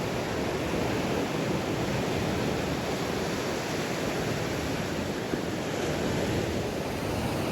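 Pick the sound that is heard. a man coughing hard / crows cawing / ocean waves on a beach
ocean waves on a beach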